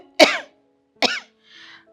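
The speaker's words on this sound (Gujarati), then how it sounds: "ઉધરસ તો મારો જીવ લઈને રહેશે." A person coughs twice in sharp, close bursts about a second apart, followed by a faint breathy rasp, in an otherwise quiet indoor setting.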